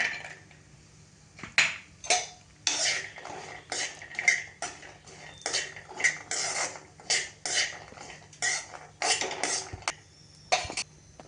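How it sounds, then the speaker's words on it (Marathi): Cashews tipped into a pan and stirred for homemade jaggery laddoos, a run of soft, irregular scraping and clinking of spoon against pan, moderately close and fairly quiet, with no talking. "आता काजू घालतेय"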